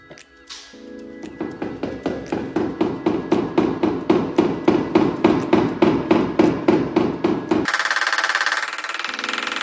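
Paintless dent removal on a car panel: a steady train of around twenty evenly spaced metallic taps from a blending tip, growing slightly louder, then a brief hissing noise at the end, close with no voices.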